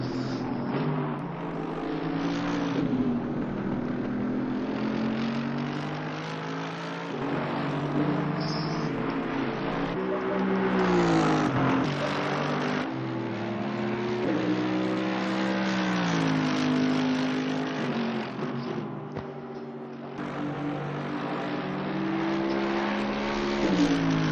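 A racing car engine in a sim race at Spa drones loudly and continuously, its pitch climbing through gears and dropping sharply on downshifts into braking zones, repeating over a long stretch with no talk.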